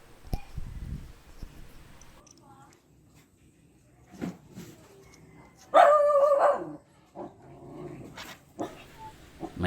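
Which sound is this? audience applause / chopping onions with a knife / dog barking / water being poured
dog barking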